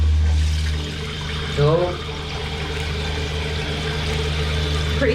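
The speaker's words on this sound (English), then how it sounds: "Never had so much excitement about a toilet filling up" A newly installed Mondella toilet cistern fills with water, a steady low rushing and gurgling flow running continuously with a brief louder burble partway through; a voice speaks briefly over it.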